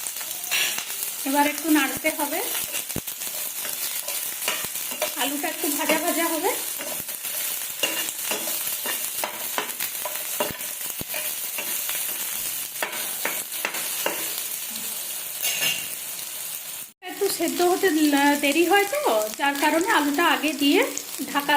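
Cut potatoes and green chillies fry with punko greens in a little oil for a poppy-seed dish, giving a steady, close sizzle with repeated scraping stirs, broken once by a brief drop in sound.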